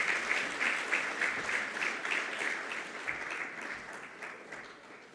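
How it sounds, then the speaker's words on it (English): Sustained audience applause at a Namibian public-private forum, a dense steady patter of many hands clapping that carries on without pause and eases off slightly toward the end, with no voices over it. "Round of applause for him, please."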